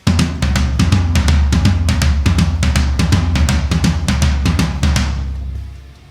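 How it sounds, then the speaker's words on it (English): Rapid drum strokes bounce back and forth between two low, resonant toms in a steady driving pattern with a kick underneath, fading out at the end. "it's going to move in a circle of 2 between the first floor tom and the second one"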